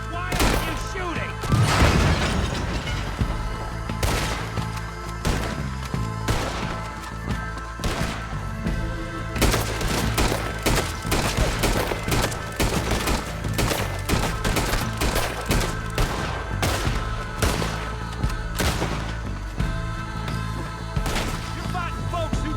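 Gunfire in a Red Dead Redemption 2 shootout, loud repeated shots and thuds popping irregularly over a constant layer of background music, with voices talking between the shots.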